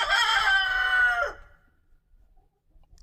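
A rooster crows once, loud and close, a single long call that cuts off cleanly and leaves near silence behind.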